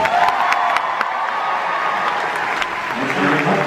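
A convention panel crowd bursts into applause mixed with cheers and whoops, loud and dense throughout the short burst.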